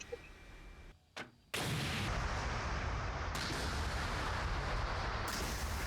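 Missile launches in the DCS World combat simulator: after a short dip and a couple of sharp cracks, a sustained loud roaring rush of rapid firing continues steadily to the end, with no talking.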